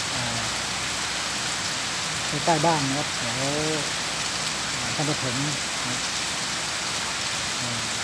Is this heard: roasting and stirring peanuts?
no